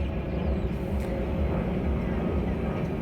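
A steady, low, broad engine roar hangs in the air throughout, like an aircraft passing overhead above a village market, with no voices.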